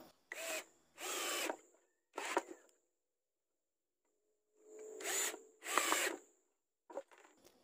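A power drill drives screws into a board while building a tool for laying lightweight hebel bricks, in about six short close whirring bursts separated by pauses, with no talk.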